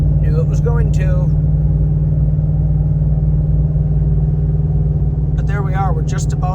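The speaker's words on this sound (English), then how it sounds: "let's see if it downshifts and really gets after it" A 13-year-old Ford Raptor truck engine drones steadily from inside the cab as it downshifts climbing a hill on a road trip in eastern North Dakota, a low constant hum with someone talking over it.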